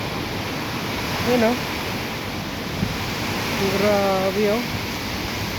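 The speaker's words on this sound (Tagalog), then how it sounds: "grabe yung hangin dito banda kung makikita nyo, pagaspas yung lahat ng mga dahon" Strong storm wind and rain roar as a steady, dense wash of noise with leaves thrashing, while someone speaks briefly over it.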